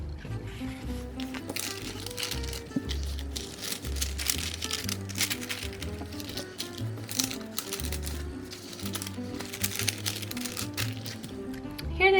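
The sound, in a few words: glassine bags of sticker sheets being handled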